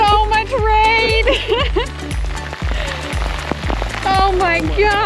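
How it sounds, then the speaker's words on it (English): Heavy rain pours down during a hike up Pulpit Rock near Stavanger, Norway, a dense, steady hiss with soft thumps while people talk and exclaim over it. "This is a downpour."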